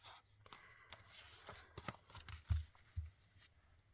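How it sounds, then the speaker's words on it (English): Trading cards being slid back out of plastic album pockets in a scrapbook album, soft close papery rustles and scrapes with a few light taps, quiet and without talk. "now, of course, I've gone and put my cards in, so I need to pull them back out again"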